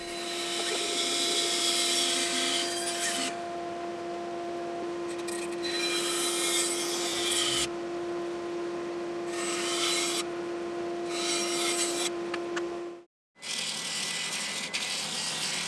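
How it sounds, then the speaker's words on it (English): A table saw rips straight lines through timber for a stool, a steady motor hum with a sustained tone under a bright rasping cut that swells and eases in several passes, then stops briefly before resuming. "I can start out by cutting the bulk of the straight lines at the table saw"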